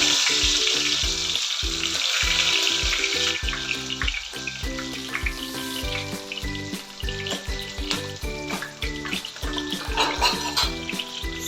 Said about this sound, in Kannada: ಎಣ್ಣೆ ಕಾದಿದೆ ಅದಕ್ಕೆ ಸ್ವಲ್ಪ ಈರುಳ್ಳಿ ಹಾಕೋಣ ಒಗ್ಗರಣೆ